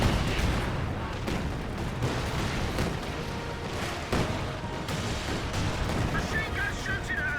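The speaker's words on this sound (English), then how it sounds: "I was bombarding this area again." Artillery bombardment in Company of Heroes 2, a continuous rumbling barrage of heavy booms and crackling gunfire, dense and loud throughout with repeated sharper blasts.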